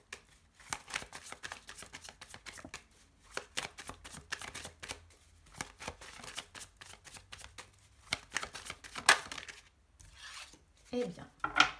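Tarot cards are shuffled by hand in a series of crisp riffling and sliding bursts separated by short pauses, close and fairly quiet, with no talking.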